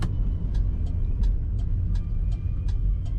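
A 1972 Oldsmobile Cutlass Supreme with an automatic transmission idles with a stock exhaust, a steady deep rumble with faint rhythmic ticking, continuous and close, no voices.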